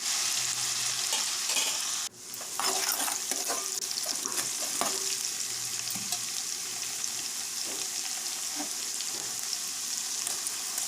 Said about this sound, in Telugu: అంతా ఒకసారి కలుపుకోవాలండి.